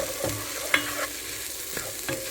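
Vegetables stirred into a pot of split pea soup, a few scraping spoon strokes against the pot with a soft wet sizzle underneath, close and moderately quiet, no talking.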